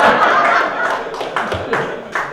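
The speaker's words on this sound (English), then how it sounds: "Charles just wants to get that clap in there." One person claps a few times close by, with a laugh and some background voices on a talk show.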